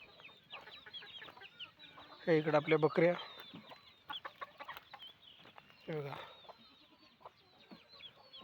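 Chickens cluck repeatedly at a poultry farm that also keeps goats and cattle, with two louder bursts of clucking near the microphone while someone talks over them.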